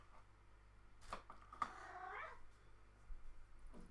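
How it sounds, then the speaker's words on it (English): A cat meows a few times, quiet and somewhat distant, with short drawn-out calls over a low steady hum indoors. "I can hear a cat."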